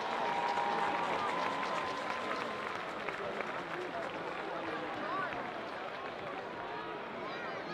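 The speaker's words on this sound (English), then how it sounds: "let's give all court members another round of applause as we congratulate them." Crowd applause for a homecoming court at a high school football game, a broad, steady patter of many hands under a murmur of voices, fairly distant and fading slightly over several seconds.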